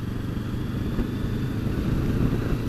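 A motorcycle rides along a brand new road surface, its engine producing a steady, close, low droning rumble with constant wind and road noise, no talking.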